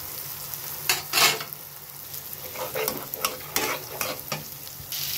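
Eggs go into a pan beside onion, chilli and shrimp already fried, sizzling steadily while a spatula scrapes and stirs in irregular bursts, close and clear with no talk.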